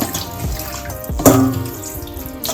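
Tap water runs steadily into a sink while a goat head is rinsed clean for Jamaican goat head soup, with close splashing as the head is handled under the stream.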